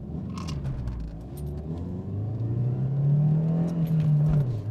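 A Daewoo Lacetti accelerates on the main straight of the Slovakia Ring circuit, its engine rising from a low rumble into a louder, climbing drone heard from inside the car.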